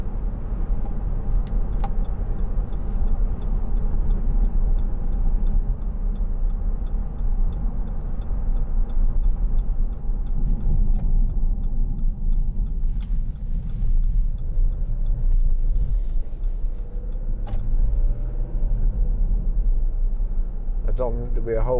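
A 2012 Jeep Grand Cherokee 3.0 CRD V6 Limited 4x4 diesel on the move, with a steady low cabin rumble of engine and road noise throughout and a few faint ticks.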